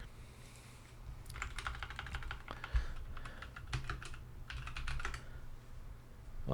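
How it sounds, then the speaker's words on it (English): Quick bursts of typing on a computer keyboard, key clacks coming in uneven clusters with short pauses between them, close and fairly quiet over a low background hum. "Let's type up Bud Light."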